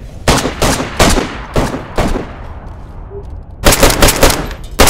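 Loud, close gunfire in the DayZ video game: a rapid string of sharp shots, a brief pause with fading echo, then another quick burst of shots.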